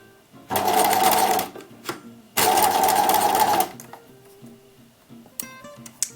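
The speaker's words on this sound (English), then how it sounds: "I'm using a 2 mm stitch length on my machine" A sewing machine stitching a rouleau cord seam at a 2 mm stitch length, heard as two loud, close bursts of rapid mechanical whirring separated by quiet pauses and light handling clicks.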